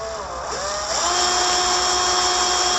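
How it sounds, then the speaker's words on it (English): A power drill spins up a 3D printed generator stator rig, rising in pitch over the first second and then holding a steady, loud, high whine. "And again, you can take your drill."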